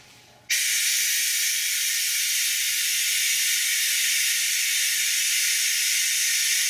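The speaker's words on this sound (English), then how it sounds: "I open this up and the oil should start flowing" Engine oil from a 2020 Land Rover Defender P400 petrol engine starts draining through a connected hose, a sudden loud steady hiss that begins abruptly and then runs on evenly, close and alone.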